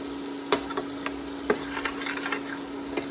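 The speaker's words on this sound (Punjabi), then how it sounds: "ਆਪਾਂ 1-2 ਮਿੰਟ ਲਈ ਪਕਾ ਲੈਨੇ ਤਾਂ ਜੋ ਜਿਹੜਾ ਮਸਾਲਾ ਆਪਣਾ ਚੰਗਾ ਚਣਿਆਂ ਨੂੰ ਲੱਗ ਜੇ" Boiled chickpeas with masala cook in a pan for aloo chaat, a soft, steady sizzle with occasional light taps and scrapes of a spoon against the pan, and a faint constant hum behind.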